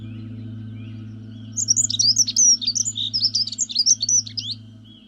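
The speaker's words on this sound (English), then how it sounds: "The arrival of the goldfinch brings the fields to life with a flash of brilliance." A goldfinch sings in open fields, a quick twittering run of bright, high chirps and trills that starts partway through and carries on close and clear over a low steady background hum.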